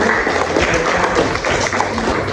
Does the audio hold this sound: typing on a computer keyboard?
no